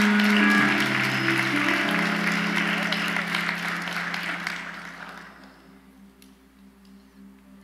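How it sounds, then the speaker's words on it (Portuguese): A church congregation applauds steadily through amplified worship, then the clapping thins and fades out, leaving quieter room sound. "Pode aplaudir ao Senhor."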